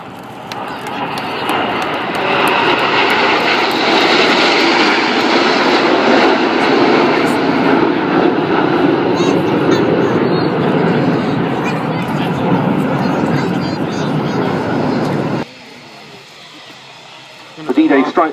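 A Eurofighter Typhoon jet in a flying display at the Waddington air show roars loudly and steadily for about fifteen seconds, a broad sustained engine rumble that suddenly cuts to quieter ambience near the end.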